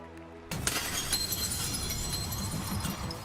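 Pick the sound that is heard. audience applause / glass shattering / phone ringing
glass shattering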